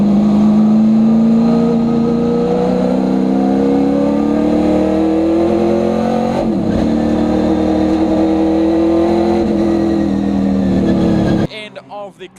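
Classic race cars thunder hard into Cashel corner during a close-fought classic saloon race, engines screaming and rising in pitch for a long stretch before abruptly cutting to quieter wind noise near the end.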